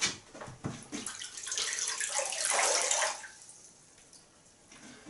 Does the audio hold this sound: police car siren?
no